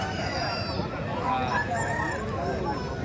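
A desi breed rooster crows at the Kundarpalli Sankranti festival market, its wavering call set against busy crowd chatter and general market noise.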